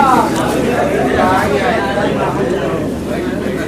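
A crowd at a religious celebration chants salawat slogans, a loud blend of many voices with wavering tonal phrases over steady babble, filling the whole few seconds.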